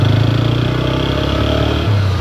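A 2024 TVS Apache RTR 160 4V motorcycle runs loud and close in urban riding mode, its engine holding a steady low throbbing drone that rises briefly in pitch near the end.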